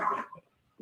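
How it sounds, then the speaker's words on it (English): A neighbouring dog barks once, loud and fairly close, with a short softer yelp after it, then quiet. "Someone else's dog's barking now too."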